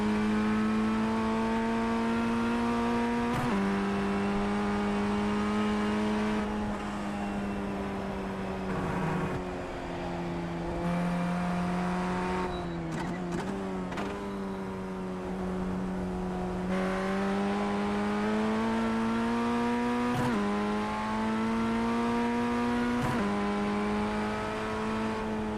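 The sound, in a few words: F1600 race car engine revving, from iRacing video game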